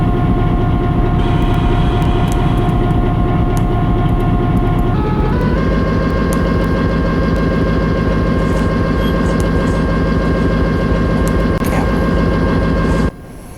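An AC44 locomotive in Train and Rail Yard Simulator drones loudly and steadily, its engine note stepping up in pitch partway through and holding a dense, rhythmic diesel throb until it cuts off near the end.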